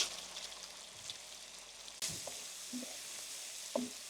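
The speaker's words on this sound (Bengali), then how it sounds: "মাছটা ফ্রাই করার পরে সেম তেলে আমরা দিয়ে দিচ্ছি এখন পেঁয়াজ" Two cups of onions with chillies sizzling in the same oil just used to fry fish, for a home-style fish do-peyaja: a steady, close, hissing fry with a few light stirring knocks.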